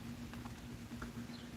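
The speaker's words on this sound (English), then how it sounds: "it's raining. I'm out here underneath this giant canopy in my backyard." Rain patters softly on a large canopy in a backyard, a few scattered drops tapping over a steady low hum, quiet and close.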